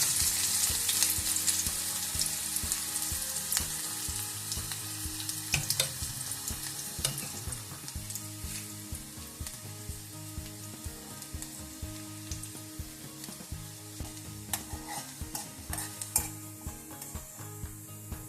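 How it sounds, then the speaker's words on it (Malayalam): Chopped shallots frying in hot coconut oil with popped mustard seeds for a cucumber curry, a steady close sizzle with light stirring clicks and scrapes, no talk. "ഇനി ചെറുതായി അരിഞ്ഞ കുറച്ച് ചുവന്നുള്ളി ഇടുക."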